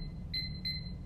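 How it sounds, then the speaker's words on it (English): A timer for a painting challenge gives two short, clear electronic beeps about a third of a second apart, faint over a low steady background hum. "And the timer is set."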